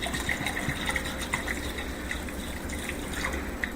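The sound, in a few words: adding water to beef stew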